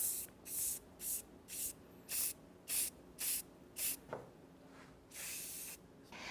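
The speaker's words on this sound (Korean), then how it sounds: "스프레이만 가볍게 뿌려서 디자인 완성하도록 하겠습니다." Hairspray from an aerosol can is misted over a finished men's crop haircut in a salon, about nine short even bursts in a steady rhythm followed by one longer spray, close and crisp with no speech.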